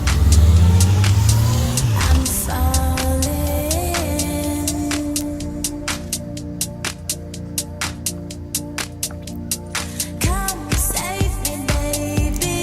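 Car driving over mountain roads in Austria, engine droning steadily up close with gear changes and rising revs, accompanied by a rhythmic clicking throughout.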